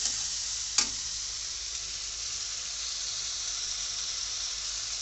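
Masala spices sautéing in a pan for a fish curry, giving a steady bright frying hiss with one sharp tap or stir near the start, close and even throughout, with no voices.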